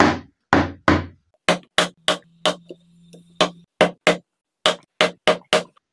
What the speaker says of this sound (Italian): la fissatrice della Vigor a fissare il fondo sulla struttura e tutta quanta la struttura su se stessa